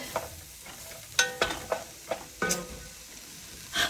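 Spoon or spatula scraping browned bits from the bottom of a beef stew pot, a handful of separate scrapes and knocks against the metal over a soft sizzle, close and fairly quiet.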